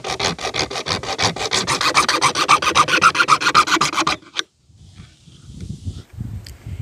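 A hacksaw half blade cuts through a metal fan guard in quick, even back-and-forth rasping strokes, loud and close for about four seconds, then stops, leaving faint handling noises.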